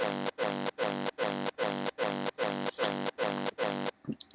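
Hardstyle raw kick tails with a low-cut EQ repeat in a steady four-to-the-floor pattern, each a dense, distorted burst with its lowest end trimmed, loud and close.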